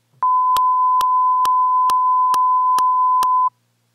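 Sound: FM synth tone with clicks in Xfer Serum

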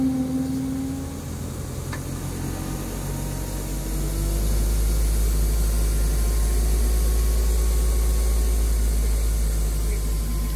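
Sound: tractor engine revving for hydraulics

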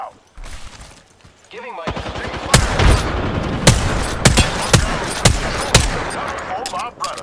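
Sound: frag grenade thrown and explosion in Apex Legends video game

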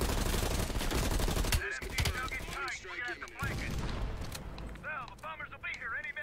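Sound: machine gun firing in Call of Duty: Black Ops Cold War, a video game

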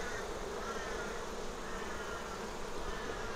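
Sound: bees buzzing around hive frames during inspection

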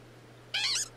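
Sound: Glameow Pokemon cry in Pokemon Legends Arceus video game

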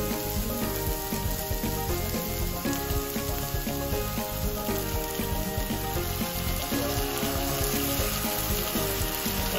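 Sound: onions sizzling as they cook

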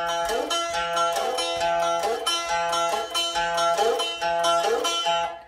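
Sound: guitar lick: low string, high string, slide up

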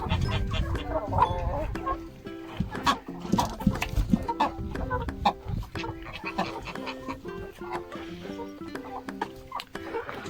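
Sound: rooster crowing

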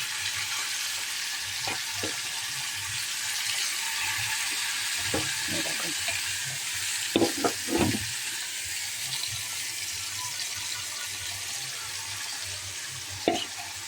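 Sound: fish and spices cooking in pan

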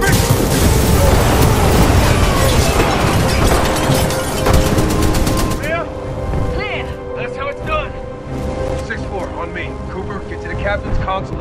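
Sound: breach charge explosion in the video game Titanfall 2

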